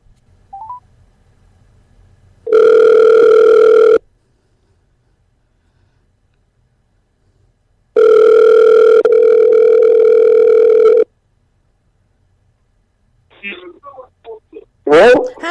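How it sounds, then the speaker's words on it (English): A phone call being placed: two long, steady electronic ringback tones with a gap between them, then faint clicks and short bursts as the line connects. "I'm going to give him a call back."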